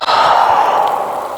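One close, breathy exhale during a mat Pilates ball roll, a soft airy rush lasting just over a second with no talk over it.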